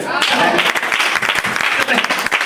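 A church congregation claps in a dense, loud burst of rapid hand claps, with voices calling out among them.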